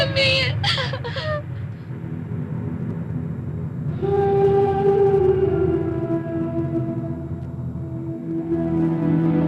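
An ambulance siren wails with long, sustained wavering tones over loud rumbling background noise, following a few sharp bursts at the start.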